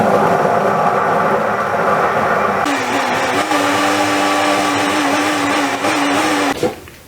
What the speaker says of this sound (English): I've blended that as smooth as I can get it.